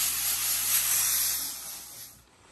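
A garment steamer hisses steadily on clothing just after dry cleaning, a loud, close broadband rush of steam that continues without pause and fades somewhat toward the end.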